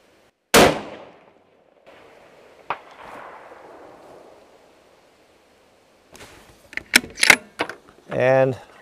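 A single sharp, loud rifle shot at a 550 yard target cracks nearby and rolls off in a fading echo, followed by clicks and rattles of handling the rifle and a voice talking.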